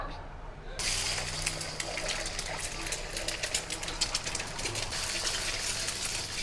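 Cracked eggs hit hot oil in a kadai and burst into a loud, crackling sizzle that starts abruptly. The spitting, bubbling frying noise then continues close by with uneven pops.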